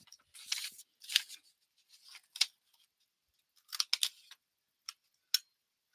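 A Fiskars corner rounder punch chops through paper in a series of sharp, dry crunching clicks, several grouped closely at first and then scattered single snips, all near and crisp against silence.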